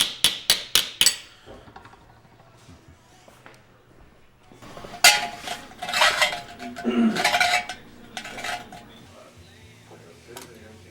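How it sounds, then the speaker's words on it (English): Five quick ringing metallic strikes from a slapper shaping motorcycle sheet metal open, then a later stretch of clanking, scraping metal work with scattered hits, close by, and some talking underneath. "I like to use a slapper instead of a hammer because it's an even surface."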